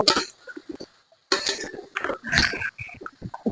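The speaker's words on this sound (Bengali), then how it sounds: "এবার আমি আমটাকে ভালো করে কড়াইয়ের মধ্যে নাড়াচাড়া করে নেব" Chopped mango pieces for a jaggery pickle are stirred in a kadai, giving bursts of clinking and scraping from the utensil against the pan, separated by short pauses.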